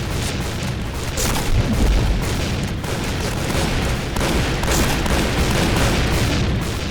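Dense, loud gunfire in the online shooter Point Blank, sustained rapid shots and booms blending into a constant roar with no gaps, no speech.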